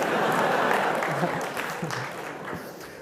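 A crowd at a stand-up comedy show claps in a dense, steady burst of applause that fades slightly toward the end, with some voices mixed in underneath.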